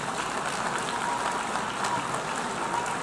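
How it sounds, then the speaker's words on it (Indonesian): World delegates applaud after a speech at an international gathering, a dense, steady wash of clapping that fills the whole stretch at an even level, heard alone without voices. "disambut tepuk tangan para delegasi dunia"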